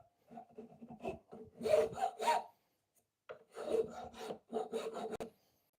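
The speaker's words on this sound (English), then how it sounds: "It's more like it's scraping the surface with a sharp edge." A file used like a scraper draws its sharp edge across a wooden surface in a woodworking shop, giving two bursts of raspy scraping strokes separated by a short pause.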